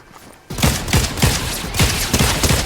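Loud, rapid bursts of gunfire shooting stormtroopers in the video game Fortnite, starting abruptly and rattling on continuously in close, dense volleys.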